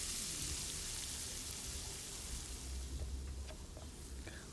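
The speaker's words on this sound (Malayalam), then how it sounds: "ഇനി ഇതേ ഓയിലിലേക്ക് ഒരു 3 ഉള്ളി ചെറുതായി അരിഞ്ഞതും ചേർത്ത് നല്ലപോലെ വഴറ്റുക." Three finely chopped onions sautéing in hot oil that was just used for frying, a soft continuous sizzle and crackle heard close up without any talk.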